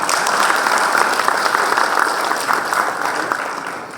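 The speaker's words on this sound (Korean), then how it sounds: "큰 박수로 모시겠습니다" A conference audience at an LG presentation event gives a speaker a big welcoming round of applause, a thick, steady burst of many hands clapping at moderate distance that tapers slightly near the end.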